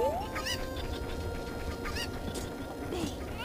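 Cuckoo chickens in Zelda Ocarina of Time give repeated short clucks and squawks, scattered and moderately close over steady game background noise.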